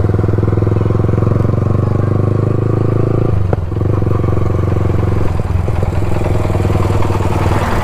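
A motorcycle rolling along ahead on a sunny road, heard as a loud, steady engine drone with clattering from close by, dipping briefly before carrying on.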